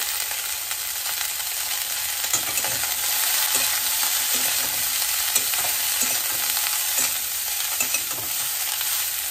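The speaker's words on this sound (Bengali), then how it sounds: "ভাজা করার সময় আমি ব্রোকলির মধ্যে অল্প একটু লবণ ছড়িয়ে দিলাম, আর একটু হলুদ গুঁড়ো ছড়িয়ে দিচ্ছি, দিয়ে ভালো করে ভেজে নেব।" Broccoli frying in a pan with a sprinkle of salt and turmeric powder gives a steady, close, hissing sizzle, with soft scrapes of a spatula stirring through it at intervals. No one speaks.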